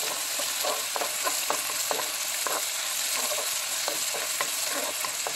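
Garlic fries in butter, a steady close sizzle with light stirring scrapes scattered through it.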